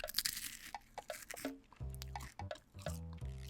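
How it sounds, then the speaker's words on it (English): Crunching on goldfish crackers close up, a series of crisp bites and chews with short pauses, followed by heavier wet chewing with no talk. "You hear that crunch?"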